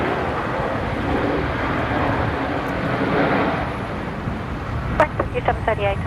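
A Velocity jet landing on runway 19 left at Brisbane Airport, a steady distant engine rumble and roar that eases slightly, with a few short tonal bursts near the end.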